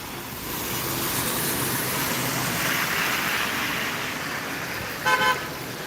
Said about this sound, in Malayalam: എറണാകുളത്ത് നിന്നുള്ള K S R T C ബസ്സാണ്